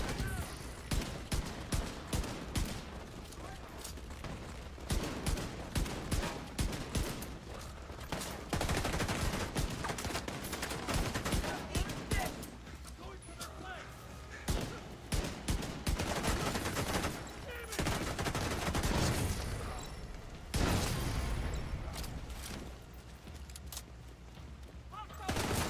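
Gunfire in the video game The Division 2: repeated bursts of rapid shots and single cracks across a long firefight, loud and dense, with brief gaps between volleys and occasional talk mixed in.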